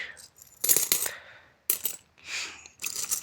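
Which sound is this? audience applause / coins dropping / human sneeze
coins dropping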